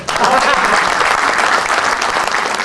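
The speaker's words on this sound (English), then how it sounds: "Give him a big round of applause." An audience at a talk breaks into steady, full applause for a 65-year-old man, a dense sustained wash of many hands clapping with no break.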